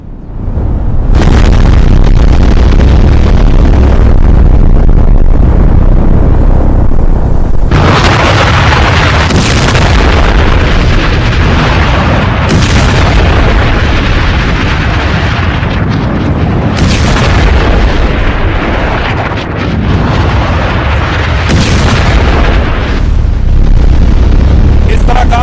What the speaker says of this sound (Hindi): बंकर बस्टर बॉम्ब फिर दाग दिया है ट्रंप ने।